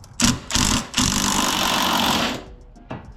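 A power tool works a bolt on a car's suspension during a coilover install, giving two short loud bursts and then a sustained whirring run of about two seconds that cuts off, followed by a brief clank.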